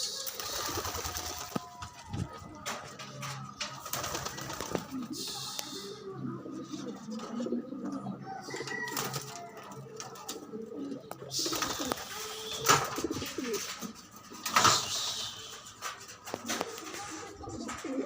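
Pigeons at a Philippine loft coo repeatedly through a long stretch, soft rolling calls with a faint mechanical whir behind them and occasional sharper bird sounds near the end.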